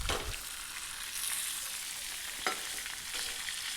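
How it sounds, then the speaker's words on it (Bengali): A whole katla fish, freshly caught from a pond, fries in hot oil with a steady, close crackling sizzle that fills the clip, alone and without voices, with a couple of brief louder pops. "মাছটি টাটকার জন্য মানে পুকুর থেকে ধরে এনে এখানে ভাজা হচ্ছে"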